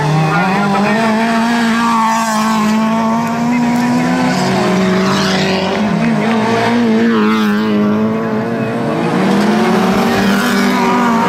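Race cars at an autocross event in the semi and over-1600 classes drive hard on the track, engines revving loudly and close with tyres squealing, while a commentator talks over them.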